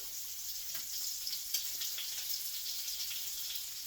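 Bacon fries in a skillet with a steady, close crackling sizzle and scattered pops, with no voices.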